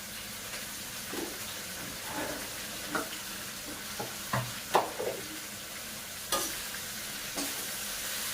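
Capsicum frying with salt in a pan, a steady close sizzle punctuated by irregular scraping stirs and soft knocks of a spatula.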